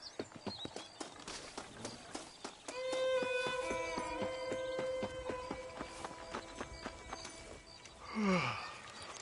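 Horse hooves clip-clop in Red Dead Redemption, a steady run of close, evenly spaced hoofbeats that carries on beneath a sustained musical tone, then a brief neigh-like swoop near the end.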